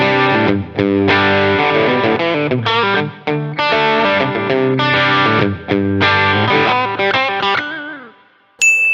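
A PRS SE Custom 24-08 electric guitar plays heavily distorted chords and riffs with effects, loud and sustained with brief gaps, ending on a fading note and a bright ping.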